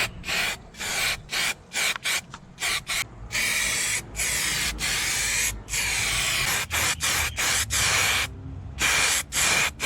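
Bursts of aerosol spray hiss close up as Raptor bed-liner coating goes into the wheel well of an LS1-powered Nissan Patrol, short blasts at first, then longer sustained sprays with brief gaps.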